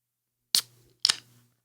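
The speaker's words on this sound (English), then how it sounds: "see if we get a nice crack hiss on this" Two sharp metallic cracks of beer cans opening about half a second apart, each followed by a short fizzing hiss that trails off, close up with no talking.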